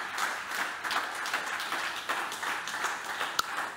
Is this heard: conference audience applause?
yes